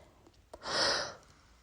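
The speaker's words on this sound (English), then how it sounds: "I tried so hard not to yawn." A single long, breathy yawn swells and fades over about a second, heard up close and alone with no talk over it.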